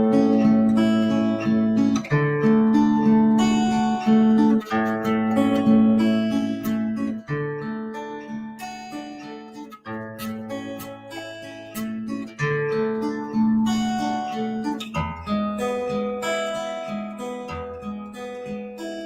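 An acoustic guitar is fingerpicked in a more advanced third pattern, with plucked notes rolling in a steady, flowing rhythm through changing chords, close and clear with no talking.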